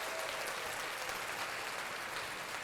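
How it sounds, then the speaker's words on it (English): Soft, sustained applause from a small group, a quiet patter of clapping with no voices. "Golf clap."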